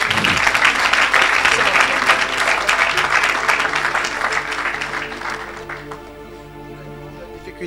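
A church congregation bursts into loud, sustained applause during a worship service, dense clapping that gradually fades over several seconds, with a voice speaking over it.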